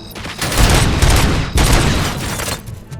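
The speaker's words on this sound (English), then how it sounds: "Gunshots?" Gunfire in the game Robocop: Rogue City: loud, rapid bursts of shots crackle close by in dense volleys with a short break in the middle, heard alone.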